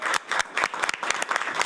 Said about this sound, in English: Can we give a round of applause to Nico?